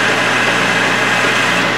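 Grizzly G0776 metal lathe cutting a taper on the backstroke, a steady loud motor hum with a faint high whine and even cutting noise throughout, no talk.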